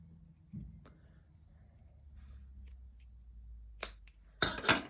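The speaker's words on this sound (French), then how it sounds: "C'est de venir couper mon tissu." Scissors cut through fabric for an embroidery hoop bias binding, with a faint early snip and then two sharp, close crisp snips near the end amid quiet room noise.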